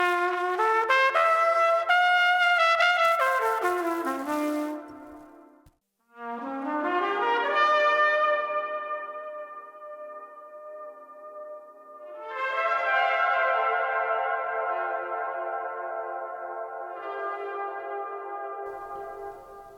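Sustained trumpet notes run through delay and reverb pedals, each phrase swelling into long, shimmering echoing tails that overlap and fade, with a brief gap midway before new bell-like sustained tones bloom and decay; no voices.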